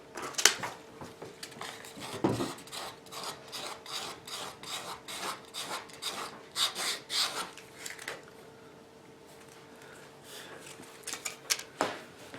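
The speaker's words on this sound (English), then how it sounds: "we'll just do a little bit of edge beveling here." A small hand beveler rasps along the edge of leather for a fillet knife sheath in a series of short, scraping strokes, close and fairly quiet, with no talking.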